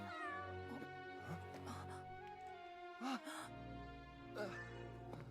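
A black cat meows in a video game, a few short mews over layered game music, with a person talking softly underneath.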